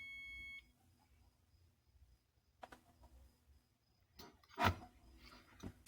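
A multimeter gives short, faint electronic continuity beeps as its probes touch resistors on a JTC woofer amplifier board, with light scraping between the tones.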